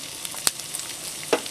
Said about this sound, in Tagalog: Ang gagawin natin ngayon ay mag-uumpisa na tayo mag-saute nitong ating mga ingredients